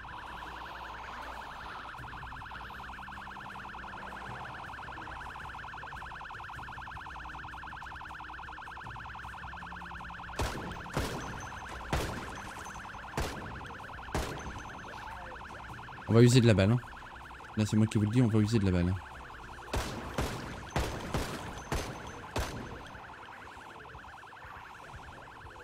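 Vehicle siren in the video game Project Zomboid, a steady wailing alarm tone held throughout, with someone talking over it and sharp gunshot-like bursts in the second half.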